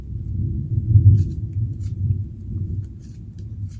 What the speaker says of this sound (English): The thunder is getting closer and it has started raining now.